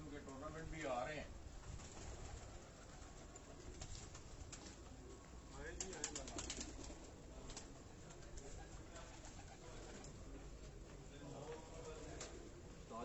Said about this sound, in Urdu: اسی طرح بڑے کبوتر بھی ہیں آگے